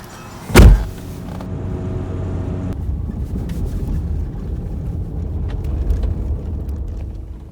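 A car drives before sunrise, with a thump and a power window's whir at the start, then a steady low road and engine rumble continuing inside the cabin.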